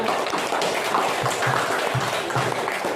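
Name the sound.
audience applause for group 5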